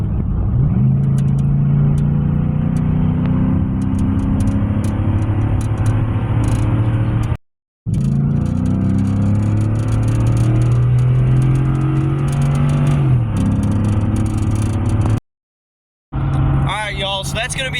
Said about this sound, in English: we're gonna put this new exhaust on, and we're gonna see what it sounds like without an exhaust leak